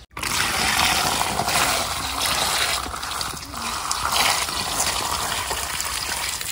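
Water poured or gushing steadily, a continuous rushing splash close by at an outdoor riverside picnic, with faint voices underneath.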